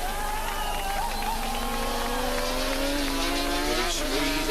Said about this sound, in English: Squeezing a throttle open gradually on the big, powerful machine.